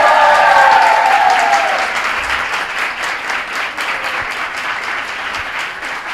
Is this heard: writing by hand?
no